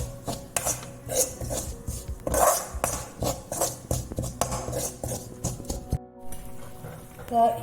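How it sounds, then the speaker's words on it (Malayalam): A spoon stirs roasted coriander powder in a hot pan, making repeated rhythmic scraping and rasping strokes at close range, with faint sizzling underneath. "മൂന്ന് സ്പൂണ് മല്ലിപ്പൊടി ഇടുന്നുണ്ട് നല്ലോണം ഇളക്കിയിട്ട്"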